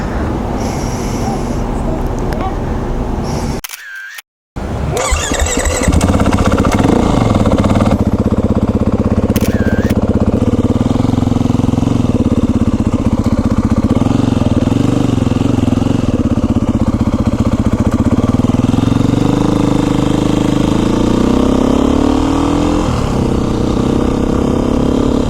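A 2019 Beta 500 RR-S street-legal dirt bike engine runs loud and close, a steady rough drone with a brief cutout near the start and revs that rise and fall later on.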